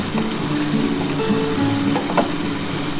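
Spice paste fries in hot oil for a Bengali vegetarian chana dal dhoka dalna, with the oil separating from the masala. A dense, steady sizzle runs throughout with faint stirring, and no one speaks.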